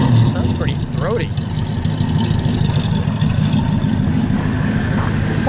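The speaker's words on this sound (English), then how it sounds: "Can you listen to it idle? Sounds pretty throaty." A 1931 Studebaker President 4 Seasons Roadster idles steadily with a low, throaty rumble, close by and continuous, while a voice talks over it.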